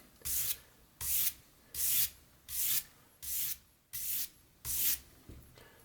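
A utility knife blade is rubbed along sandpaper to raise a burr for whittling, giving seven even, rhythmic rasping strokes about a second apart, close and fairly quiet, with no voices.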